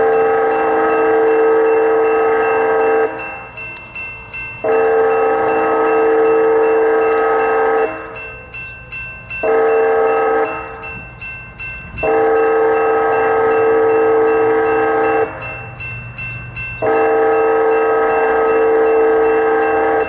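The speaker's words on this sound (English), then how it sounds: "BNSF manifest train." BNSF manifest freight train passing in California's Central Valley, its horn sounding loud and close in long repeated blasts with short gaps, over the steady rumble of rolling railcars.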